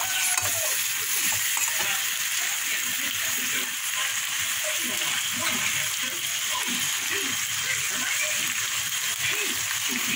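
Raw fish pieces coated in turmeric and chili powder fry in a pan with a loud, continuous sizzle and crackle, while repeated scraping stirs sound close by throughout.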